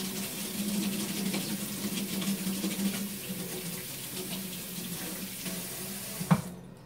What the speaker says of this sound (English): I'm going to do a quick rinse of this spoon so I don't get none of that mayo in my jar.